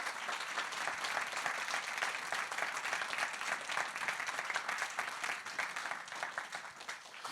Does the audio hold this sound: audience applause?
yes